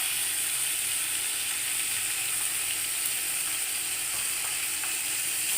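Vegetables fry in oil in a pan, including pumpkin and potato with Malabar spinach, making a continuous dense sizzle and crackle that stays close and steady throughout.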